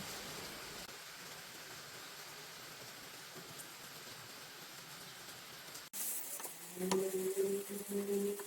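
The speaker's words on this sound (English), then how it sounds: "nice to see like this raining" Steady rain falls as a continuous hiss for several seconds, then a sharp cut brings a louder, busier scene with faint tonal hums during work on a 2018 Suzuki Swift RS front brake job.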